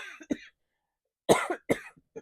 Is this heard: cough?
yes